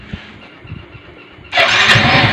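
A Yamaha Mio 125 scooter engine with a knocking fault cranks under low workshop background noise, then fires and catches to a loud, steady running note for the last second.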